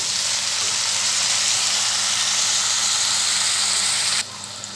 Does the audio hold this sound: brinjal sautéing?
yes